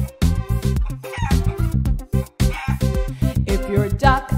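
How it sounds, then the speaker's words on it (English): Chicken clucking and crowing sounds in a children's nursery rhyme song, loud and rhythmic bursts layered over bouncy music throughout the short stretch. "If you're a chicken and you know it, say cheek cheek."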